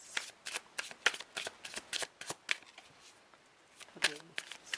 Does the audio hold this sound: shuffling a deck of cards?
yes